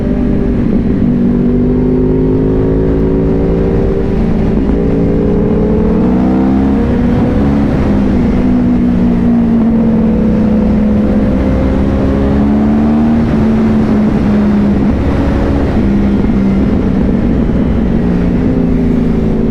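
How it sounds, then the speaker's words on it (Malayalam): Yamaha R1 sport bike from 2014 fitted with aftermarket carbon slip-on exhausts instead of the stock system, a loud steady engine drone with shifting harmonics as the revs rise and fall, heard continuously up close with no talk. "സ്റ്റോക്ക് എക്സോസ്റ്റ് അല്ല, ആക്ട്ര കാർബൺ സ്ലിപ്പ് ഓൺസ് വെച്ചിട്ടുണ്ട്."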